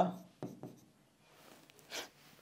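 Pen or marker strokes drawing the cyclic structure of fructose in a chemistry lesson, a few short scratchy taps and a longer scrape, faint and close, with someone talking nearby.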